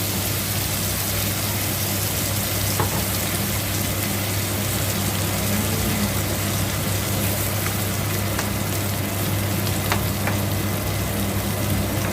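Coconut milk for a Thai curry with bamboo shoots bubbling and simmering in a pot: a constant, loud, even sizzle with a low steady hum underneath, with no one talking.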